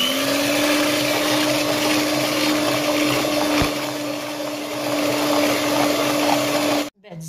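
An electric mixer whirs steadily and loudly as it beats cake batter in a home kitchen, a constant motor drone that holds for several seconds before cutting off abruptly near the end.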